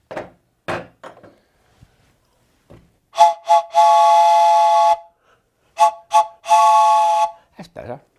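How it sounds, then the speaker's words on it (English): Acme orchestral three-tone whistle blown in short toots and two longer sustained blasts, bright chord-like tones, close and loud, with brief speech at the start. "These are made by Acme for orchestras, orchestral three-tone whistles."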